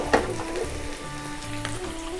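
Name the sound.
chopped onions frying in a pan for chicken khichdi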